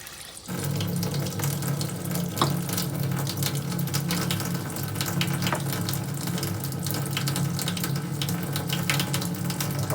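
Water runs steadily through an Ecosphere filter unit, a continuous close rushing flow like an open tap with faint intermittent clinks, no talking.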